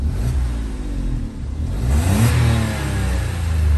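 A Citroen C1 engine revs up and down, rising whine and throaty rasp, loud and close with no voices over it.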